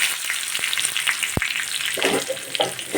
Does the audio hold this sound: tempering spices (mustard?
yes